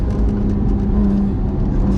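Accelerating under throttle, a BMW M2 Competition with Pure Turbos stage 2+ upgrades and roughly 700 wheel horsepower gives a loud, steady engine rumble and whir heard from inside the car.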